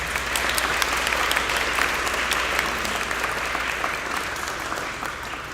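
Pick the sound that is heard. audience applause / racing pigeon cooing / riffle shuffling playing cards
audience applause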